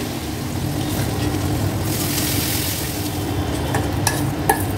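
Oil-released masala for Bengali doi katla (rohu in yogurt gravy) keeps sizzling and frying steadily in a pan, with stirring scrapes and a couple of sharper clinks near the end. No voices.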